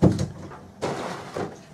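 A small door to the head below a sailboat's companionway is opened, giving a few soft wooden knocks and rattles: a thump at the start, then two more brief sounds close by.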